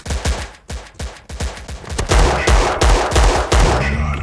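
Desert Eagle pistol shots in a CSGO-style video game, a loud, close run of sharp cracks fired in quick bursts with bassy booms, getting denser and heavier toward the end.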